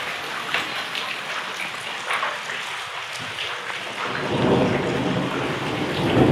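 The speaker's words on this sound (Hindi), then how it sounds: "बादल इतने गरज रहे हैं कि क्या बताएं" Heavy early-morning village rain pours steadily while thunder rumbles, the low growl building louder toward the end; no voices.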